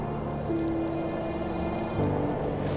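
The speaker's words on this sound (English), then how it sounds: "Oh, it's raining now." Steady rain pours in The First Tree, a dense, even hiss with no talk, joined by a low sustained musical tone partway through.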